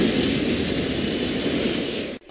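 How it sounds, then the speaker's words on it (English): Steady, loud jet engine roar from a cartoon jet in Teen Titans Go, a broad continuous rush that holds evenly and then cuts off abruptly at the end. "All the Bizarro Titans were just killed by their jet."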